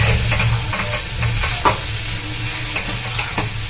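A potato and raw chickpea filling stir-fries in oil over medium heat, sizzling loudly and continuously while a utensil scrapes and stirs it in repeated close taps.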